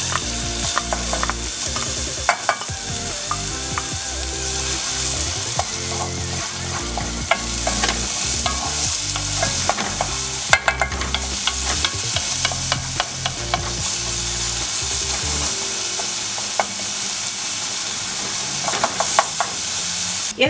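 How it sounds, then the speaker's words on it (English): Onions caramelizing in a pan while vegan orange tofu is cooked, a steady loud sizzle broken by repeated scraping stir strokes and clicking utensil sounds, continuous for the whole stretch with no talking. "We want to caramelize the onions,"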